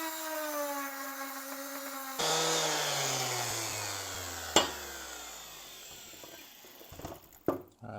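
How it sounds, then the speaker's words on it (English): A power sander works an aluminum solar panel mount for a wedge-top camper, its motor whining then dropping in pitch as it spins down, with a sharp knock and a few rattling clunks near the end. "All right, that's it for sanding."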